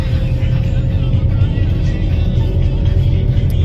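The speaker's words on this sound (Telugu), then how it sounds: "బస్సులో పోతా ఉన్నాం." A bus heard from inside while riding, with a steady, loud low engine rumble and road drone that holds evenly throughout.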